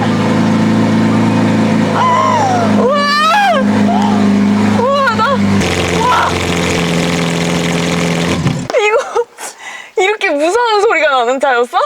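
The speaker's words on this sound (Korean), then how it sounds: "시동 걸고 배기음 한 번 듣는 데만 해도 이렇게 막 웅장하잖아요." A Lamborghini Aventador S Roadster V12 starts up and revs, a loud, deep engine roar sustained for several seconds and then cutting off, with excited voices talking over it and continuing afterward.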